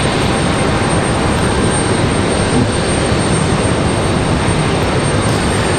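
Aircraft jet engines at Raleigh Durham airport produce a loud, steady broadband roar with a faint high whine, continuous and unbroken throughout.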